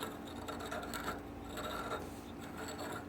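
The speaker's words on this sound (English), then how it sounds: "you just take this handle, you just keep it perpendicular, and just grind a few grinds" A gate valve seat being ground smooth by hand with a turning handle: a steady, soft, close rasping and rubbing that runs continuously without pause.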